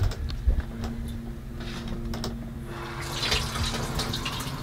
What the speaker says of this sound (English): So I'm going to start by adding some water.